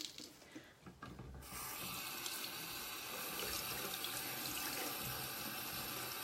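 Running tap water splashes steadily over a paintbrush being rinsed clean in a sink, starting quietly and then becoming a continuous close gush with no speech.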